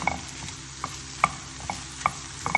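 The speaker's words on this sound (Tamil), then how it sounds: "இப்போ 2 நிமிஷம் நம்ம நல்லா கிளறியாச்சு." A spoon stirs mushroom stir fry in a pan, with soft scraping and sizzling under a few sharp clinks of utensil against metal at an irregular pace, close by, with no talking.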